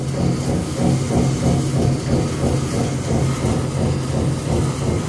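Steady, loud mechanical rumble with a regular, repeating knock several times a second, like a worn bearing or fan thumping inside running machinery.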